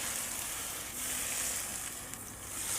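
Close, steady sizzling of food frying in hot oil previously used to fry chicken, a bright crackling hiss that continues throughout without any talking.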